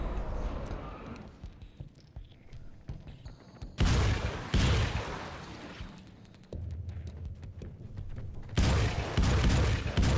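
Grenade blasts in Alan Wake's American Nightmare, heard as several loud broadband booms at intervals amid rumbling game noise, with brief rattling between.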